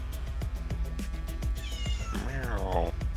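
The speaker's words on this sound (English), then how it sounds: "Is there a cat in your house?" A house cat meowing indoors, a drawn-out rising and falling meow near the end over steady background noise from a game session.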